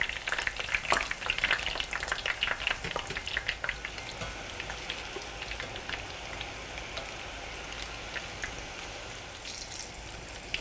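Bite-sized eggplant pieces fry in hot oil with a dense, steady crackle and sizzle, busier and louder at first and then settling into an even hiss, close by with no voices.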